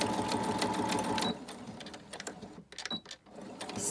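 A sewing machine runs in a fast, close whirring burst while stitching vellum onto a paper envelope, then slows into a few scattered, quieter stitches and clicks.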